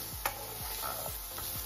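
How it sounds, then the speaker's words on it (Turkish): Onions sizzle and crackle steadily in hot olive oil, with a few soft scrapes of stirring. "2 kaşık zeytinyağının içinde kavuruyoruz."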